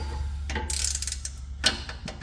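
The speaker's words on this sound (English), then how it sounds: "So I'm just going to tighten these down a touch before I come back with a torque wrench." A ratchet snugs bolts under a 1989 Pontiac Trans Am GTA in short bursts of close mechanical clicking. Brief gaps separate the strokes, and no one speaks.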